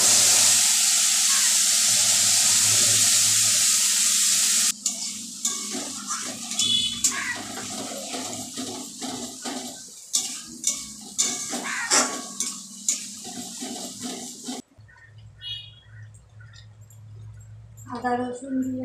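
A tomato, onion and green chili paste fries in a pan, starting with a steady hiss of sizzling, followed by stirring scrapes and utensil clinks while a person talks.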